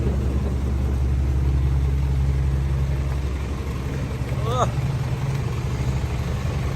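A backhoe excavator's diesel engine rumbles deep and continuously as it tows a sound truck stuck in mud outdoors, with a brief higher tone rising over it midway.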